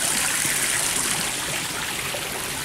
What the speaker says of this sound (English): Some waterfall. It is called Nortaki.